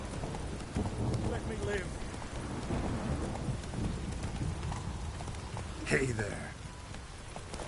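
Hooves of Roach, a horse in Witcher 3, pound in a steady gallop through rain with a rumble of thunder, while someone talks over the hoofbeats.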